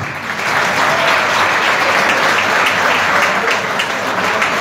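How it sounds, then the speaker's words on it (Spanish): Loud, close applause from an audience at an opera show, thanking the photographer, with many hands clapping in a thick, sustained burst that holds steady for several seconds. "Otro aplauso para nuestro fotógrafo."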